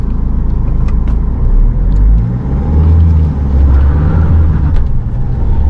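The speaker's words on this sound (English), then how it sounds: "this is a manual transmission and now I am in the first gear" A Mahindra XUV-500 W6 with manual transmission driving in first gear, heard from inside the cabin as a loud, steady low engine and road rumble with slight rises and no talk.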